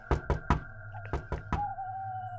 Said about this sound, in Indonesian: Herman mengetuk pintu